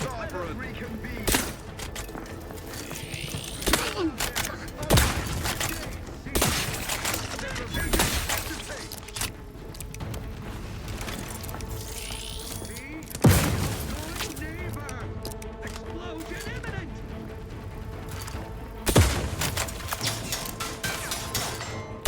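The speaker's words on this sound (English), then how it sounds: "You can shoot grenades." Grenades fired in the shooter game The Outer Worlds 2, a series of sharp booming launches and blasts spaced a few seconds apart over steady game ambience and speech.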